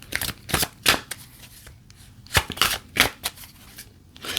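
A tarot deck is shuffled up close, quick bursts of riffling card flutters in an uneven rhythm with brief pauses between, no talking.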